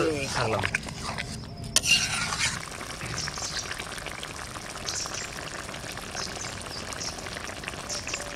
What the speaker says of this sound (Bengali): আমি নতুন করে কোনো জল দেব না এইভাবে কষিয়ে কষিয়ে রান্না করবো